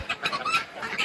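Chickens in a rotational grazing pen that is moved daily give a few quick, close clucks in an irregular rhythm, brief and fairly loud.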